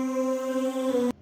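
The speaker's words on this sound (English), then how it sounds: "The instrument I chose for this was a built-in one called Cloud Formation." Cloud Formation, a built-in FL Studio synth instrument, holds a steady, layered sustained tone for about a second before cutting off abruptly, loud and alone with no voices.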